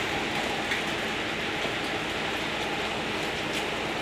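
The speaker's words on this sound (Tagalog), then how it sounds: "Maulan na hapon to, maulan na Sabado" Rain falling on a rainy Saturday afternoon, a steady, dense hiss of drops that stays even and close throughout, with no voices.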